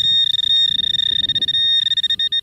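A metal detector rings on a buried target in the dirt, a sustained high electronic tone that warbles and pulses over about two seconds while faint breeze and ground rustle sit underneath.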